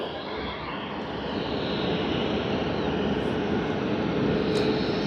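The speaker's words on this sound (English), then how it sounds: "We have Korean Air Boeing 787 coming in shortly" A Korean Air Boeing 787-10 Dreamliner arriving at Sydney Airport gives off a continuous broad engine roar that stays steady and fairly distant, growing slightly louder over five seconds.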